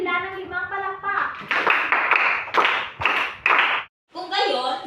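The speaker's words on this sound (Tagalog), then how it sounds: "Bigyan natin sila ng 5 palakpak." A class of children claps in unison five times to a rhythmic beat during a lesson, the sharp group claps mixed with their chanting voices and followed by more children talking.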